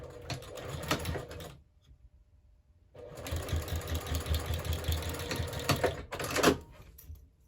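A sewing machine stitches a seam on a scrappy zipper pouch made from jelly roll strips, running in two close bursts of rapid whirring stitches split by a short pause.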